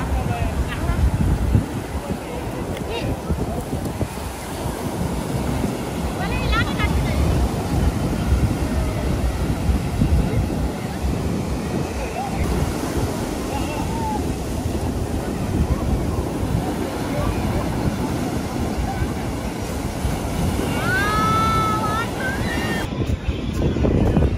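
Ocean waves roll and break along a beach during a mud festival, a loud, continuous roar buffeted by wind on the microphone, with people's voices mixed in.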